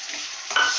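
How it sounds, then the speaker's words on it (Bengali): A spice paste with cashews and raisins fries in a pan, a soft steady sizzle that is joined by a louder scrape of stirring in the second half of this brief moment. "এবারে আমি মশলাটা ভালো করে কষিয়ে নেব।"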